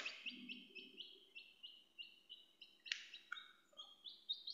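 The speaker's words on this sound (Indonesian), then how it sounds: "Ini ada suara anak ayam" A newly hatched chick from a home egg incubation peeping in a steady run of high, thin cheeps, close and fairly quiet, with no talking.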